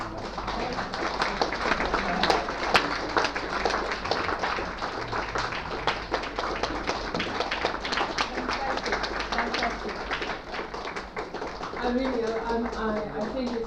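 Sustained applause from a large audience at a live people's tribunal session, dense continuous clapping filling the room at steady loudness from start to finish, with some murmuring underneath.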